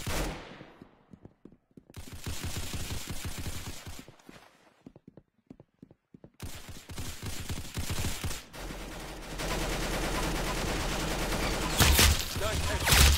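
Video game gunfire in bursts, loud rapid volleys separated by brief quieter gaps, with a long dense stretch of firing toward the end.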